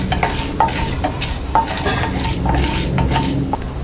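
Mustard seeds and split chana and urad dal crackle and sizzle in hot oil as a spoon stirs the pan, steady frying hiss with scattered pops and light metal scrapes close by.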